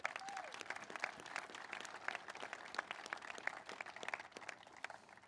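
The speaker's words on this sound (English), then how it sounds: "Let's give them a round of applause" Applause from an audience at the groundbreaking ceremony for the Golden 1 Center, a steady wash of many hands clapping at moderate distance throughout, with a faint voice briefly heard near the start.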